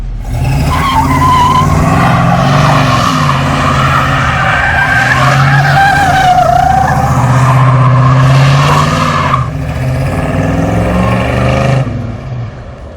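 A car engine roars as tires squeal loudly in a sustained burnout, the screech wavering in pitch before fading out near the end.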